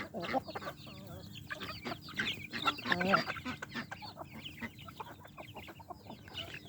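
Chickens pecking at grain scattered on damp ground, clucking softly and repeatedly in a busy, irregular patter, with occasional quiet talk.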